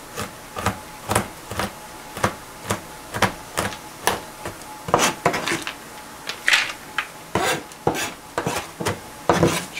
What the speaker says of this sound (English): I'm going to crush up the peanuts just so that they mix a lot better.